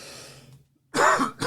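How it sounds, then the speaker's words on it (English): A person coughs and clears their throat close to the microphone, a low rumble and pause followed by a sharp, loud burst and a second shorter cough. "Coughing in your ear, blowing up your speaker."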